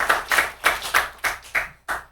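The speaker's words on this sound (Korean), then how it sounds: "박수 한 번 더 보내주셔요." Church congregation at a Sunday worship service at a Baptist church clapping in unison, a steady rhythmic series of about seven loud claps, close and clear with no talking.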